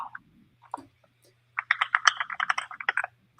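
Typing on a computer keyboard, a burst of close, rapid clicks lasting over a second after a few scattered taps, with a faint steady hum underneath.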